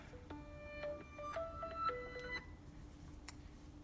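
Phone going off in a kitchen beside a Vitamix blender, a quiet run of electronic tone beeps in quick stepped pitches, then a faint click, with no voices.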